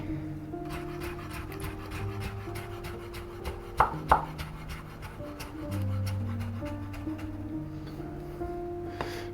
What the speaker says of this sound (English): And then we're just gonna do a quick julienne, thin slices.